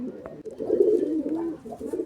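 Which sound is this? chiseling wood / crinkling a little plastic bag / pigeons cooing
pigeons cooing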